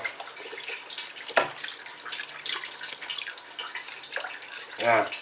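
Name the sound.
adding water to lamb meatball mixture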